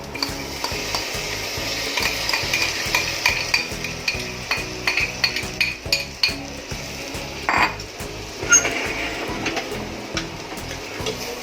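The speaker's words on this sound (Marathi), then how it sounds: "आता हे चांगलं परतून घ्यायचं अगदी कुरकुरीत" Rice is sautéed with spice masala in a pan for masale bhat, a steady sizzle under regular rhythmic scraping and clinking of a spoon on metal, close up with no speech.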